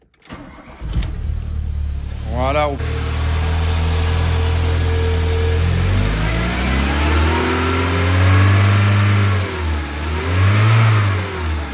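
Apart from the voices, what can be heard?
Volkswagen Golf 1 engine starting and revving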